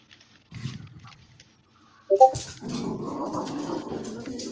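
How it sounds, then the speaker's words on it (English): A dog barks a few low woofs inside a house during a tabletop roleplaying game session, then gives a brief whimper before a rush of broader noise follows. "Maybe that's Circumference's dog"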